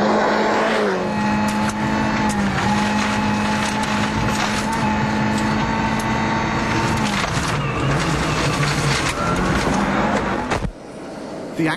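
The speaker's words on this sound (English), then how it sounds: "If we go on board with Tommy on stage four, it's obvious that he's driving right on the limit." A rally car engine roars loudly from on board on a stage of Rally New Zealand 1997, revving hard through gear changes with gravel noise, then cuts abruptly near the end.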